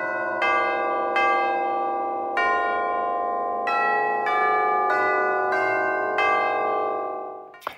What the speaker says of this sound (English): let's do some tubular bells.